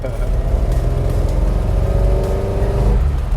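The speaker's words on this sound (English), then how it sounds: "That distinctive flathead sound." A Ford flathead engine in a Model A hot rod idles and runs steadily with a low, throbbing rumble, loud and close, with faint voices in the background.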